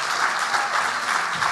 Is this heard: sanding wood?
no